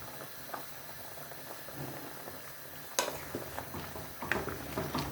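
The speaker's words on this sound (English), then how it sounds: "Now my meat is on the fire cooking." Meat, including gizzard, shaki and pomo, cooking in a pot on the fire for Ofada stew, with a steady sizzle and bubbling under occasional utensil clinks and scrapes, close and moderately loud.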